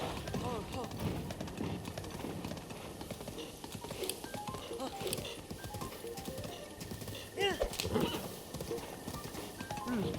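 Rhythmic clip-clop of a horse's hooves galloping across terrain in The Legend of Zelda: Breath of the Wild, steady and continuous under a voice, with game sounds layered in.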